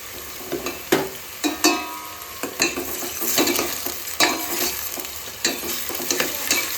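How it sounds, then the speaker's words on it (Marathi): Ginger, green chili and garlic paste is stirred into hot oil in a frying pan for a Konkani crab curry, giving a close, steady sizzle broken by irregular scraping and knocking strokes of a spoon. "अद्रक मिरची कच्ची मिरची आणि लसूण ह्याचा जो पेस्ट तयार केलेला आहे तो आता आपण ह्याच्यामध्ये मिक्स करून घेऊया"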